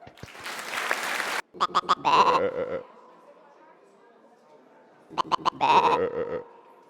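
Bleating sheep from a staged comedy act, two bursts of rapid stacked cries rising over a brief spell of clapping at the start, with quiet gaps between.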